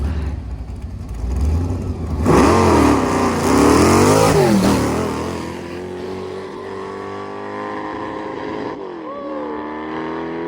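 A Ford drag racing car accelerates hard down the strip, its engine revving high and loud with rising, sweeping pitch through the gears, then easing slightly as it shifts and continues pulling away.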